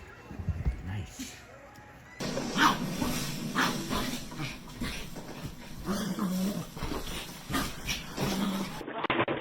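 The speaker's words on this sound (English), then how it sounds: "Bailey, you're gonna fall, you stupid dog" A dog whimpering, growling and giving short barks and yips at close range, with a person talking over the animal noises.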